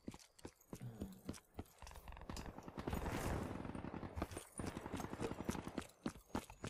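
Rapid bursts of Call of Duty: Black Ops 3 gunfire crackle in quick succession, dense and continuous through the middle, with sharp individual shots at the start and end.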